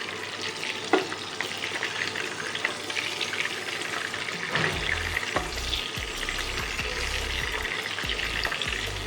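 Mushrooms fry in oil for a chili mushroom dish, a continuous close sizzle with scattered stirring knocks and scrapes, louder bubbling toward the end.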